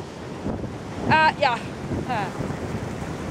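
Ocean waves surging and breaking at Port Stephens, a broad wash of surf under wind buffeting the microphone, with short bursts of speech on top.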